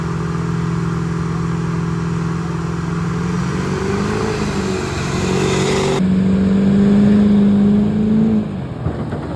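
Diesel truck in the stock diesel class racing on a dirt track, its engine droning loud and steady, then revving harder with a rising pitch near the end of the run.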